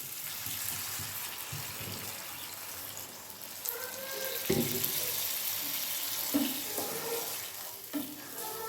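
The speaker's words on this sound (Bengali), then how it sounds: "জল দিয়ে দিলাম" Water pours into a pan of fish curry as it cooks, a hissing, splashing rush with sizzle, broken by several soft clinks and knocks of utensils.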